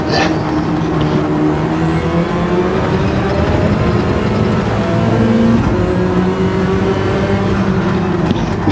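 Mini VGT race car engine heard onboard in Gran Turismo 7, a loud continuous drone with steady harmonic pitch lines that shift slightly through gear changes, with no voices over it.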